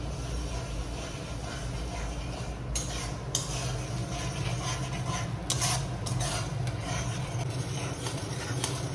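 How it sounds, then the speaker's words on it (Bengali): Mustard spice paste for hilsa fish is stir-fried over low to medium flame, a soft continuous sizzle broken by several sharp scrapes and clinks of a spatula against the pan. "এখন মশলাটাকে আমি একটু কষিয়ে নিচ্ছি"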